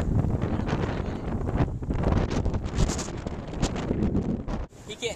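Strong wind blows through a snowy blizzard, buffeting the microphone in loud gusty roars that rise and fall continuously, cutting off abruptly near the end.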